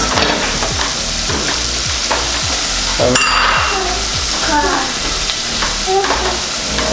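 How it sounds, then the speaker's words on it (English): Rice and Filipino escabeche sauce bubble and sizzle steadily in pans, with a constant close frying hiss, repeated soft stirring scrapes and a few clinks of utensils against cookware. "The rice is simmering, so both are simmering"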